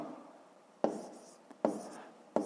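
A pen or pencil writes numbers on paper while a fifth-grade math problem is worked out, giving soft scratching strokes broken by three sharp taps, close and fairly quiet.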